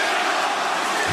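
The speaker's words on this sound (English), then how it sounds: "His capacity crowd, Booker, is coming to life." Capacity stadium crowd at a WWE wrestling event in US Bank Stadium, Minnesota, roaring as a steady, dense wall of cheering with no breaks.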